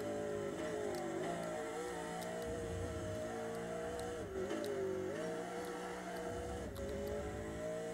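Race car engine in a racing video game at Sandown, sustained and loud, with pitch dipping and climbing through corners as the car brakes and accelerates, steady throughout with no talk.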